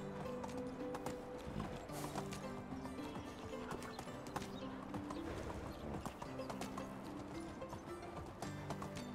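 Horse hooves clip-clop in a steady, repeated rhythm in the medieval life-sim game Medieval Dynasty, with occasional neighs over continuous game ambience; no talking.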